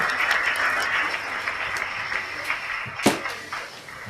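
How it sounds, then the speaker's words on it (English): A group audience claps steadily for presenting teams, a sustained patter of many hands with one sharper, louder knock near the end. "And you've got a clap from Gordon."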